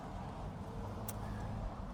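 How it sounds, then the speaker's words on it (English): Steady road traffic rumble from passing cars and trucks, a continuous low-heavy wash of noise with no clear individual vehicles and no voices. "filter out the really noisy traffic"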